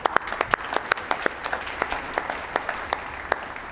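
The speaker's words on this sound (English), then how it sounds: "give them a round of applause" Audience applause at an awards ceremony, a moderate crowd clapping with sharp, distinct individual claps standing out in a loose, steady rhythm, fairly close.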